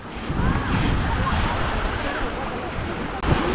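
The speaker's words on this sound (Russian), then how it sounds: "На Кинерете поднимаются волны." Waves wash on Lake Kinneret as wind buffets the microphone, a steady rushing surf that stays close and fairly loud throughout.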